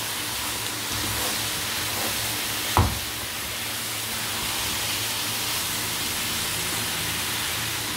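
Coriander sizzling and frying steadily in a pan with achari dal, a soft even hiss throughout, with one brief clink of a utensil near the middle.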